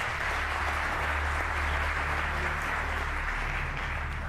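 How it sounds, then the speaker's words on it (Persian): Dense, sustained applause from a studio audience at a Persian comedy show, steady and loud for the whole stretch with no voices standing out above it. "تشویقشون کنید."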